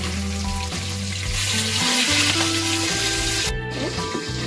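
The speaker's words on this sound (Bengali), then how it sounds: "ভীষণ ফাটে মাছ ভাজার সময়" Tangra fish fries in hot oil with a loud, steady sizzle and crackle, close to the microphone and free of any talk.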